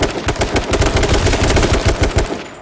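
Rapid gunfire in the H1Z1 battle royale game, a loud, dense burst of automatic shots firing continuously and close with no talking.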